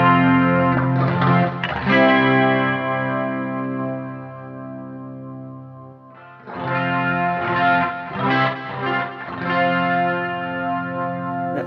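An electric guitar plays a clean tone through a Boss ME-90 multi-effects unit, with ringing sustained chords strummed in two phrases separated by a short gap, close and alone.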